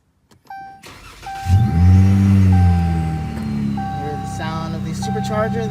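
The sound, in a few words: supercharged Dodge Challenger SXT V8 engine starting and running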